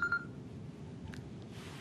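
Telephone beeping during a Persian lecture on bureaucratic language: a couple of short tonal beeps near the start, then a brief hiss-like tone, over a steady low room murmur with no talk.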